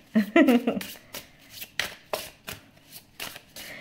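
Tarot reading cards being shuffled by hand, a quick riffle burst followed by several sharp, evenly spaced card slaps and flicks, close and clear, with no talking.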